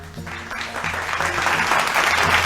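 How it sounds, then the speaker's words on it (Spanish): Applause swells from a crowd, clapping building steadily louder over a fading held tone, continuing to the end. "damos un fuerte aplauso para escuchar esto"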